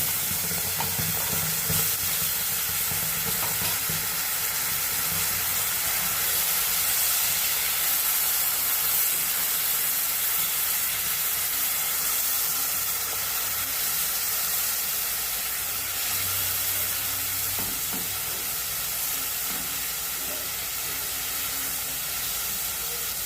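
Ground masala paste of onion, tomato, ginger, garlic and coriander fries in oil in a pan, giving off a steady, even sizzle and steamy hiss that holds throughout.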